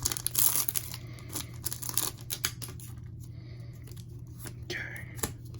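Foil wrapper of a Magic: The Gathering Ikoria booster pack tearing open, quick crinkly rips near the start, then softer rustling and handling of the pack.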